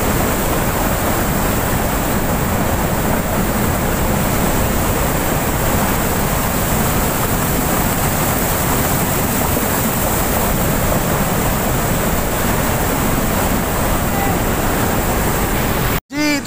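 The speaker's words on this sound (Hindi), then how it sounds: "पानी की जो स्पीड है वो काफ़ी ज़्यादा है, इतनी स्पीड से पानी आ रहा है" Fast-flowing water rushing through the BRB canal near Kasur, a loud, dense and constant roar that fills the whole stretch, cutting off abruptly at the very end.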